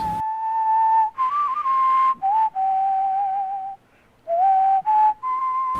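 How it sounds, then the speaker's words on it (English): A person whistles a song melody in clear, sustained notes with short breaks between phrases, close and loud with no other sound. "I can pretty much whistle along with it because I know how the song's going to go"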